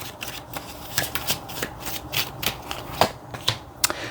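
Oracle cards are shuffled by hand in close, loud riffles and slaps, with a steady papery rustle broken by sharper snaps and no speech.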